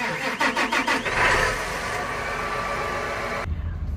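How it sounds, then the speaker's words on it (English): A tractor engine cranks with rapid chugging pulses, catches, and settles into a steady idling rumble nearby. "Just gonna start the tractor"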